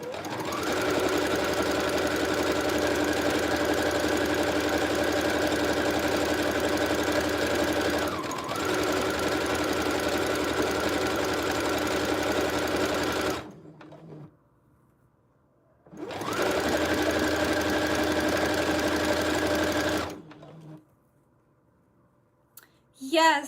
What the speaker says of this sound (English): Right now, I'm just sewing one straight line so we can gather it.